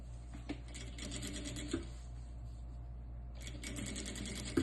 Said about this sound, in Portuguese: Eu vou passar a costura até a parte dos elásticos aqui.